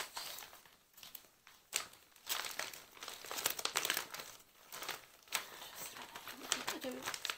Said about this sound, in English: I do apologise for the crinkling.